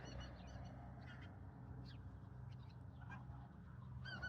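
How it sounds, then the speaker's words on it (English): Scattered bird calls, honking and chattering, come and go faintly over a low steady outdoor hum, several birds calling at a distance. "I'm sure you can hear all these birds coming in"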